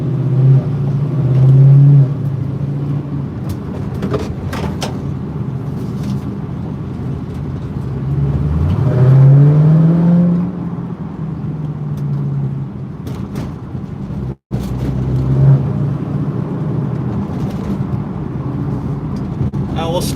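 A GMC Acadia pulls onto a freeway, its engine rumble rising and swelling in pitch as it accelerates, a steady low drone filling the cabin with a brief dropout partway through.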